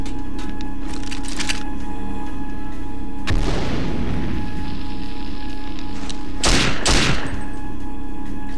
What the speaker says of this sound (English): can I throw a grenade over this